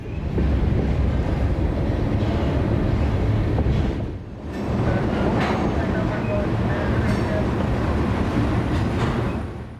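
Freight train 727 rumbles into a rail yard near Folkston, Georgia, loud and close with a steady heavy roll and a brief dip midway, wheels clacking and faint squeals riding over the low drone.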